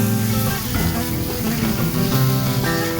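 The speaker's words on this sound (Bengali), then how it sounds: "এরপর ওই ভিজে রাখা শুকি মাছ দিয়ে দেব দিয়ে তারপর ভালো করে নেড়ে নামিয়ে দেব" Soaked dried fish sizzles steadily as it is stirred and fried in a pan, a constant close crackle with faint scraping.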